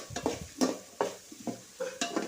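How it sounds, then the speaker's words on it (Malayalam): Carrot, green chili and onion sauté in coconut oil, a soft sizzle under repeated scraping strokes of a spoon against the pan, each stir sounding close and distinct in a steady rhythm. "നേരത്തെ അരിഞ്ഞ് വെച്ച ക്യാരറ്റും പച്ചമുളകും സവാളയൊക്കെ ഉണ്ടല്ലോ അതൊന്ന് ഇനി അതിൽ ഒന്ന് വഴറ്റിയെടുക്കണം"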